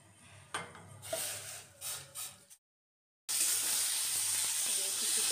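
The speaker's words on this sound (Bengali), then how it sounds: "আর একটু ধুয়ে নিচ্ছি" Rice grains being rinsed by hand in a pot of water in a home kitchen, sloshing and rubbing in bursts, then a brief silence followed by a steady hiss of running water.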